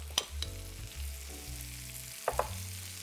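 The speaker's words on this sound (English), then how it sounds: "Now at this point, we're going to start adding some butter." Butter sizzling in a hot pan with hen of the woods mushrooms, a soft steady fry with a few sharp crackles and pops, under faint background music.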